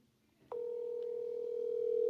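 A steady electronic voicemail beep sounds after a forwarded-call greeting, starting abruptly and holding as one unbroken, moderately loud tone for about a second and a half to the end, with no talk over it.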